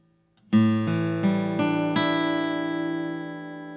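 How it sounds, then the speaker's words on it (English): Acoustic guitar strings strummed one after another into a single open chord, played on all but the lowest string, that rings out and slowly fades. "This is an open chord that sounds especially good on an acoustic guitar."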